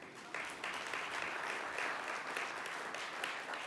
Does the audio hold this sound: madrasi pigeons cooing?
no